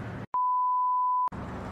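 A single steady electronic tone rings out for nearly a second during a phone call in GTA V, clean and alone between stretches of in-game background sound.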